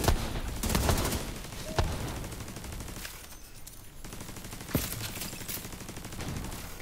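In the shooter game Division 2, a skill turret fires in rapid, dense bursts and canisters explode with loud booms, the gunfire rattling steadily throughout.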